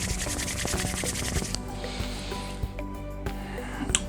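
Palms rub briskly together in a close, steady swishing rhythm, then slow to softer strokes near the end, with no talking.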